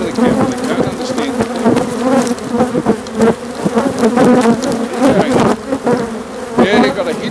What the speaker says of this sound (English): they never really understand what they're swarming all over the camp